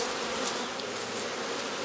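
Honeybees buzzing close by as frames are shaken during a raw honey harvest, a dense, steady drone that holds evenly throughout with no voices.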